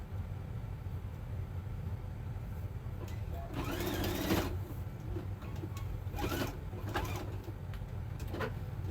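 Sewing machine stitching fabric for an Easter bunny basket at a slightly longer stitch length, with several short rattling bursts of stitching over a steady background hum.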